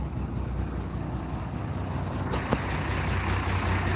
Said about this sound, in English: This is what you guys like hearing. Nasty sounding exhaust.